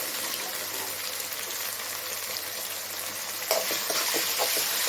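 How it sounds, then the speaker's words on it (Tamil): Onions and tomatoes sauté in a pan for masala mini idli, giving a continuous bright hiss. A cluster of quicker stirring scrapes near the end makes it a little louder, with no voices. "இப்போ பாருங்கள், வெங்காயம் தக்காளியெலாம் நல்லா வதங்கிடுச்சு."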